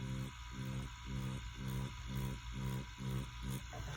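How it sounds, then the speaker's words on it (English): Tattoo machine doing straight stipple lining, a steady close buzz broken into slower, even bursts about every half second, each stroke separated by a brief dip in the drone. "And straight stipple lining sounds like this."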